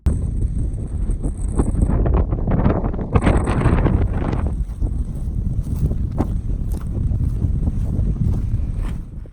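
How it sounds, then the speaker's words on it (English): Strong wind buffets a microphone on a New Zealand hillside during a summer red stag hunt, loud gusting rumble throughout with brief hissing bursts. "It's blowing pretty good right here"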